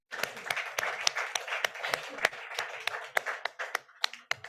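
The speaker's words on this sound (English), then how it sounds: "An applause to Ana." Applause for Ana Marcela at a founders' mental health hangout event, a short burst of crowd clapping with sharp individual claps standing out, fading at the end.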